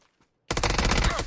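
A JS9 gun in a battle royale video game fires a rapid, loud burst of shots after a short near-silent pause, the close rattling volley lasting under a second.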